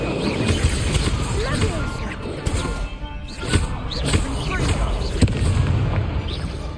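Incendio fire spell cast in Hogwarts Legacy combat: a dense roaring burst of flame and crackling impacts, loud and continuous, with sharp pops scattered through and a voice speaking over it.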